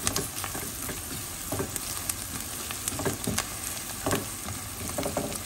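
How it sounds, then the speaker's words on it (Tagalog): Garlic and ground meat fry in a pan for lumpiang shanghai, giving a quiet, continuous sizzle with scattered crackles and stirring clatter. "Isahin ko muna yung bawang saka yung karne."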